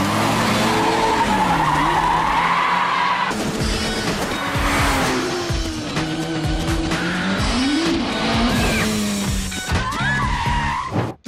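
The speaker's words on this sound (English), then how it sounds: "Car chasing scene." Tires skid and squeal loudly over roaring, revving car engines, with abrupt cuts between bursts as vehicles race and swerve close by.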